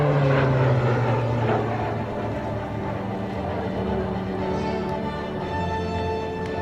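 Steady propeller drone of a Short Tucano aircraft flying a low aerobatic pass at a military base open house air show, loud and continuous with a throbbing engine tone and crowd-area ambience.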